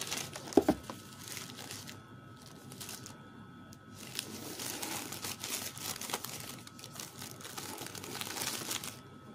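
A Ziploc plastic bag crinkles and rustles softly nearby in irregular bursts, with one sharper crackle early on and continuous quiet handling throughout.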